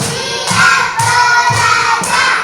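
Children in a classroom clap a counted rhythmic pattern, with four strong grouped claps recurring about every half second, loud and close, with no voices over them.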